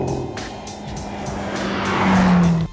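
The 575-horsepower twin-turbo engine of a BMW X5M pulls hard under acceleration, and its rising roar grows louder toward the end, joined by a high tire whine.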